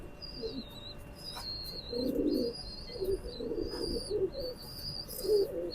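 An original teddy pigeon with deep red feet and a leg ring coos in low, soft bursts, near and moderately loud, alongside some high chirping from other birds; no one speaks.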